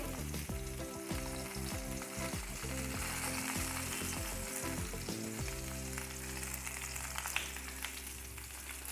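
Constant frying sizzle of stuffed eggplants in a hot pan, crackling and spitting steadily, with a low hum of background tones underneath and no speech.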